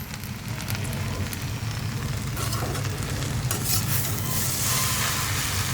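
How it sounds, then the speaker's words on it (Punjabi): Okra sabzi (bhindi) roasting in a pan gives a steady, close sizzle with stirring scrapes throughout and a brighter, hissier burst near the end, with no voices. "ਹੁਣ ਇਹਨੂੰ ਨਾ ਸੇਕ ਲਵਾਉਣਾ ਜ਼ਰੂਰ 5 ਮਿੰਟ"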